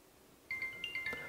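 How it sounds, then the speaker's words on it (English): A cell phone and a smartwatch ring together after a call is redialed from a landline, giving steady tonal electronic rings with soft repeated chimes, fairly faint and close, with no talking. "phone's ringing as well as my watch is ringing"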